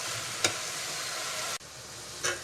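Coriander leaves sautéing in a pan for chutney, a soft, steady sizzle with a couple of brief stirring scrapes and a sharp cut partway through, fairly quiet and with no voices.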